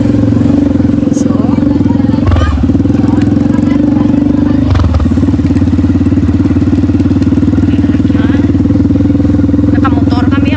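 A motorcycle engine idles and clatters loudly close by for about ten seconds, with a brief dip and a rev partway through and faint background noise.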